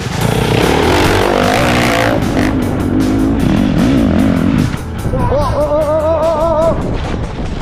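A dirt motorcycle on a steep rocky hill climb roars loud and close, its engine revving and straining before it cuts out in a stall, with people talking over the noise.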